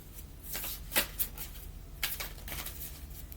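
Someone shuffles a deck of oracle cards by hand, close up and quiet, with soft riffling bursts and a few sharper snaps of the cards against one another.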